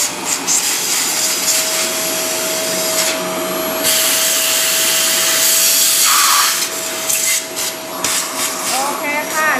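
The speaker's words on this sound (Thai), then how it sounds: "เราเอาเครื่องดูดฝุ่นนะคะดูด" A vacuum cleaner runs steadily and loudly throughout as it sucks out a Nuova MDX OD coffee grinder, its drone shifting in tone as the nozzle moves over the machine.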